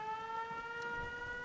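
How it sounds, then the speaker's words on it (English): An air raid siren wails in the Fallout 76 video game, a steady harmonic tone sustained throughout at moderate level, heard without speech. "First, we have to turn on the air raid siren."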